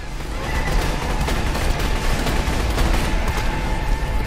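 Rapid gunfire blazes in Borderlands 2, a dense, loud stream of shots and impacts lasting the whole stretch without pause.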